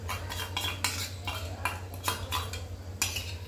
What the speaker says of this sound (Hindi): और इसे हम चलाते हैं।